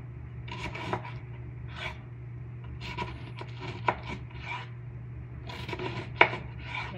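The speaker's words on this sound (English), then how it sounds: "That's how you cut up cabbage." A knife chops through cabbage on a cutting board in a quick run of crisp, uneven strokes with short pauses, close by over a low steady hum.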